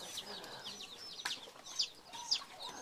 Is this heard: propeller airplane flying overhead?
no